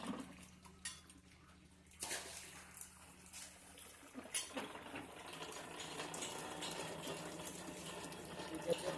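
Water splashes and runs as rubber sheets are washed in a rubber processing works, first scattered knocks and clatter, then a steady rushing wash that grows fuller through the second half.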